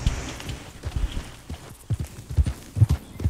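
Horse hooves clip-clopping at a trot in the online western game Red Dead Online, a steady run of close, loud, uneven hoof thuds that grow stronger toward the end, with no talking.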